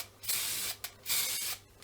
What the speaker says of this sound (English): Here we have a little bit of black spray paint